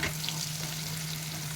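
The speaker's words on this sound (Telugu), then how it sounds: "అదిగోండి అట్లా వేపించేసేద్దాము." Pieces of liver sizzle and fry steadily in a hot pan, a dense continuous crackle with a low hum beneath, close and even, no talking.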